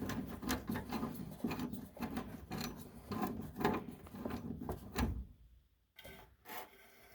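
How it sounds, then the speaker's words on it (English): Rhythmic metallic ratcheting and scraping as a wrench loosens an old, long-stuck nut on a furnace part, repeated turns close up, then a short pause and a couple of final clicks. "and then we're going to remove this nut."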